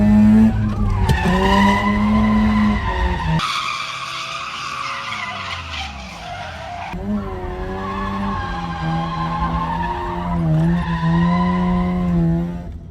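A 1984 drift car slides hard with loud, continuous tire squeal over a strained engine note, the pitch rising and falling through the long slide, close and alone with no talking.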